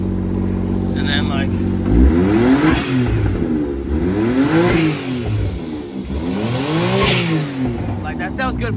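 A Suzuki Wagon RR's three-cylinder 660cc kei car engine revs repeatedly, climbing and falling in pitch several times, loud and close.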